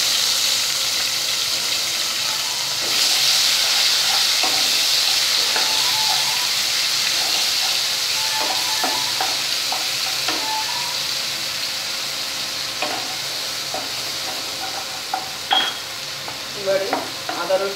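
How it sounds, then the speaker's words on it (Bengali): Onion paste sizzles and fries steadily in a hot pan for a cooking dish of taro root with prawns, with a constant loud hiss broken by occasional spoon scrapes and stirring clinks, close up. "প্রথমে পেঁয়াজ বাটাটা দিয়ে দিচ্ছি"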